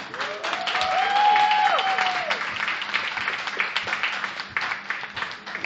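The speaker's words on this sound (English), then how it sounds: "Please give it up for Ian Rush." A crowd breaks into loud applause and cheering, with a few whistles early on, then the clapping thins out toward the end.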